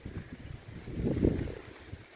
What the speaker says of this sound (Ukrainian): Але це вітер такий сьогодні, погода.